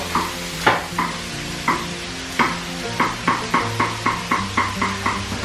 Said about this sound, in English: I fry that slowly in the pan.